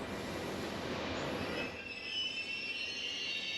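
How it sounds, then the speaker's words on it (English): A train rolls along the rails in Sicily with a continuous rumbling roar and high, steady wheel squeal, moderately loud, no talking. "It's like about an hour ride on the train."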